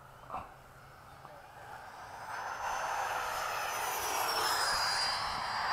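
A model jet plane flying at sunset at LFE, its engine whine swelling and rising in pitch as it passes closer and louder, a steady airy roar with a faint thump at the start.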